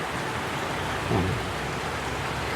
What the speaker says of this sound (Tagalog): Ang lakas ng ulan mga kabigers, oh.